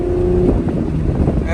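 Lexus SC300 engine idling steadily after an EGR delete, a loud, continuous low rumble heard up close with wind buffeting the microphone.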